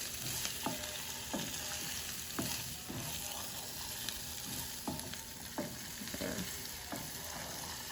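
Mixed vegetables being sautéed on a tawa with tawa fry masala: a steady sizzle runs throughout, broken by a regular series of scraping stirs at roughly one-second intervals, moderately close, with no talking.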